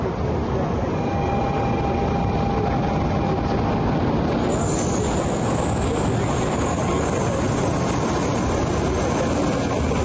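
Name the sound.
Shinkansen bullet train at station in Japan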